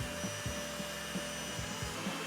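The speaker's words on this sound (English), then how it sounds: "we're gonna put the whisk on a higher setting, and we're just gonna hit these suckers until they're whipped" Electric hand mixer whipping egg whites on a high setting, a steady buzzing motor whine close by with a faint rhythmic scraping of the whisk against the bowl, alone.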